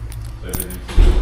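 A trucker's keys jangle with a quick metallic rattle, ending in a heavier clunk, close by while people talk.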